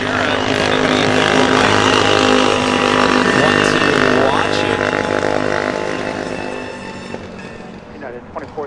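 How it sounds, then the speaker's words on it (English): Several loud motorcycles roar past near an airport, engines droning strongly for several seconds before fading away as they head off, with no talking. "Noisy motorcycles heading down."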